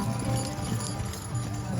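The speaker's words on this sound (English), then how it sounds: "Walk your horses. All walk." Draft horses walk in a hitched team at a horse show, their hooves giving a brief, moderately loud clopping over a busy outdoor arena background.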